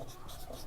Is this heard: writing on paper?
yes